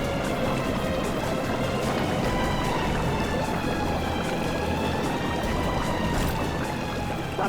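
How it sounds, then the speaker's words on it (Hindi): Continuous rushing, churning water roars without pause as it floods into a boat, a dense gushing wash pouring in heavily, with no voices heard. "पानी भर रहा है"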